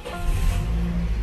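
Toyota Vios sedan, a former taxi, with its engine turning over and settling into a low idle rumble, a short steady hum close by with no talking.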